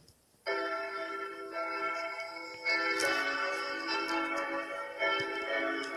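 Simulated church bell number two made with Grasshopper for a belfry, striking alone with a bright sustained ring that swells with a second stroke midway and lingers, fairly quiet.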